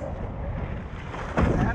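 A boat off Galveston slaps through waves, with continuous rushing water and wind buffeting the microphone, and a louder splash near the end.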